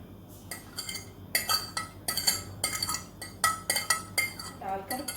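A metal spoon stirs and mixes spices into a dish of onion, jalapeño and garlic, making a run of bright clinks and scrapes against the pan in quick, uneven bursts.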